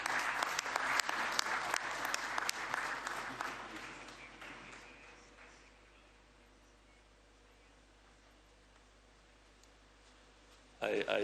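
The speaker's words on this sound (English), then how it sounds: "Can we clap hands for our brother?" Audience at a CAF ordinary general assembly clapping: a loud burst of applause that fades over several seconds into a quiet room hum, with brief talk returning at the end.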